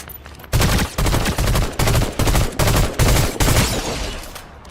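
Rapid automatic gunfire in Fortnite rattles loudly and continuously in several long bursts separated by brief gaps, close and dense, with no talking over it.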